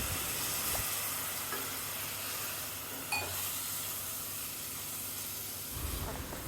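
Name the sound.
masala sautéing in pan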